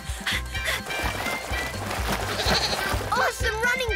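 Cartoon goats in an animated kids' show bleat in short, wavering cries over a busy, loud background of talk and music.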